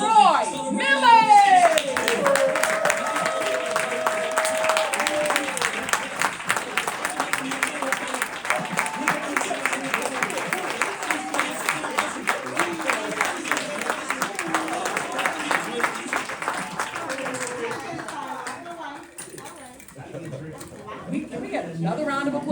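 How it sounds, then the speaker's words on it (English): Sustained applause and clapping from a crowd at a live speaking event, dense and steady for about twenty seconds before thinning out, with voices heard over it early and near the end. "Can we get another round of applause for them?"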